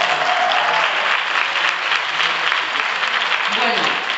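Steady applause from an audience at a Spanish-language talk event, dense clapping filling the whole stretch at even loudness, with a voice briefly speaking over it near the end.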